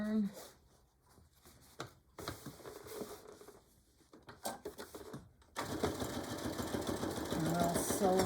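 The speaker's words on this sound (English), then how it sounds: "And we'll sew on down." A sewing machine stitches a beach or diaper bag in short stop-and-start runs, the needle chattering rapidly and growing louder and steadier toward the end, with a voice talking over it.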